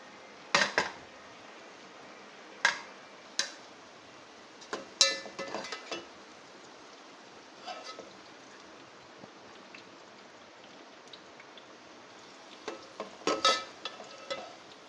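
Golden-brown fried onions being lifted out of hot oil in a pan: a quiet, steady frying hiss broken by scattered scraping and clinking spoon strokes.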